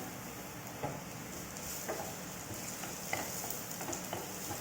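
Onion frying in a pan for an Indonesian ayam penyet dish, a steady hiss of sizzling oil with periodic soft scrapes of stirring, fairly close.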